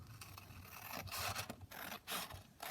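A paper book image is trimmed down for a craft journal, producing soft, close rasping and rubbing cuts in several short uneven strokes.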